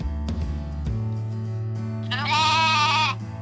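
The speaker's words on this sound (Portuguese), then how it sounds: "Goat." A single wavering goat bleat rises over steady background music, lasting about a second near the end and standing out clearly and fairly close.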